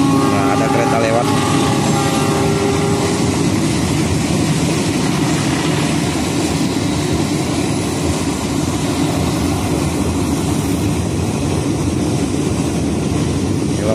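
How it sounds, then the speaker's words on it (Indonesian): A train passes close by on a thin rail line above the construction site of tunnel 10 for the Jakarta–Bandung high-speed railway, a loud, steady rumble and roar throughout with voices in the background. "Nah, ada kereta lewat."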